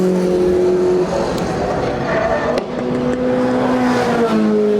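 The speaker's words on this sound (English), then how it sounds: "Chasing Bob Scanlon in the 45F" Formula Ford 1600 race cars, including a black Crossley 45F and a 1983 Van Diemen, racing at a historic festival, their engines whining loudly and continuously as several cars pass close together with shifting pitch.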